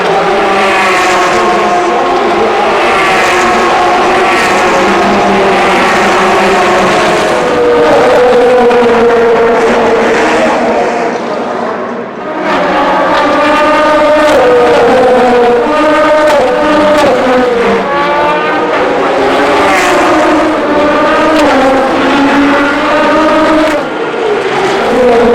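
Race cars at the Le Mans 24 Hours race: loud, continuous engine roar with overlapping cars rising and falling in pitch as they pass, and a brief dip before another car sweeps by close.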